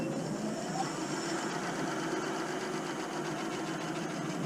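An electric bike motor runs on the throttle with a steady, faint mechanical whine and hum, continuous and close, with no talking.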